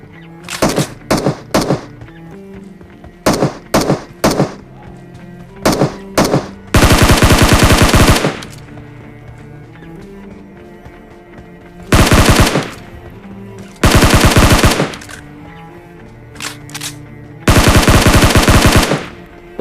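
Rapid automatic gunfire from BGMI, loud and close, arrives in short clustered bursts and several long sustained sprays, separated by brief gaps of quiet game ambience.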